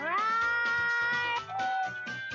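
A cat in the fighting game BlazBlue Continuum Shift gives a drawn-out, strongly tonal meow followed by a shorter second cry, close and clear with no talk over it.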